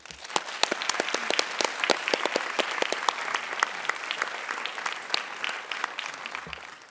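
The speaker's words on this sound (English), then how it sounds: "please another round of applause for them" Conference audience giving a round of applause to thanked speakers at an academic event, sharp individual claps standing out over a steady crowd applause that continues evenly for several seconds.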